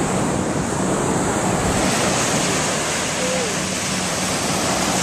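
Ocean surf rolls in continuously on a beach, a dense steady wash of breaking waves mixed with wind noise on the microphone, loud and unbroken throughout.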